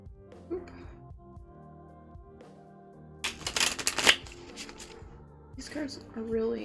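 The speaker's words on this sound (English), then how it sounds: "I'll shuffle them like hand shuffling like this" Oracle cards hand-shuffled for a Valentine's Day zodiac reading, a soft sparse start building into a dense, close flurry of papery riffling bursts, with a voice talking now and then.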